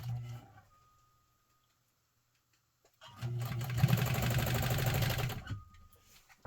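Pfaff 130 sewing machine stitching steadily for about two seconds at a fast, even rhythm, close and fairly loud, preceded by a short burst of running and a quiet pause.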